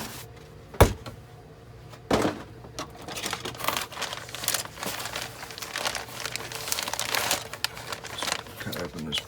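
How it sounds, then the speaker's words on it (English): Thick, heavy plastic packaging on an Airfix 1:48 English Electric Lightning model kit cut open and handled, making close, continuous crinkling and rustling with a few sharp snaps near the start. "Cut open this plastic. It's quite a thick, heavy plastic actually."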